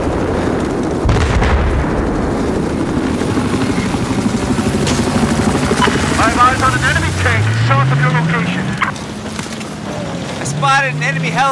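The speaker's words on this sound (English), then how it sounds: "Helicopter." A helicopter's rotor thrum runs throughout amid booming explosions and battle noise in a Battlefield-style video game, with voices calling out over the din.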